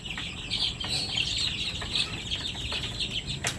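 Young chicks peep steadily while being gently handled and moved on vaccine day, a dense high chatter of overlapping cheeps close by with no talk.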